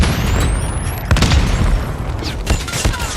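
A frag grenade blows up during an online multiplayer hardpoint match in a video game: a loud, close boom followed by a rattle of gunfire and sharp blasts, with no voices.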